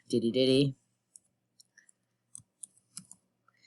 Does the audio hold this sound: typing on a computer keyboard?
yes